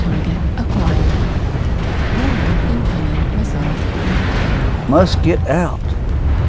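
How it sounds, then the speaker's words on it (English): Missiles explode around a combat mech in MechWarrior Online, a steady rumbling roar with a couple of sharper blasts near the end, heard under a voice. "Incoming missile."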